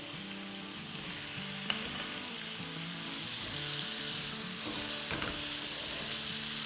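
Turmeric and salt being stirred into mango pickle in a pan, a steady soft sizzle with scraping stir strokes throughout, fairly quiet and with no voices.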